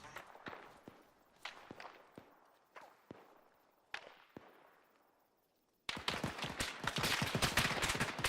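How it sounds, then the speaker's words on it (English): Sparse single gunshots ring out in a military video game, a handful of sharp cracks spaced a second or so apart with fading echoes, then a sudden dense burst of rapid fire and chaotic noise erupts near the end. "Copy shots from the south"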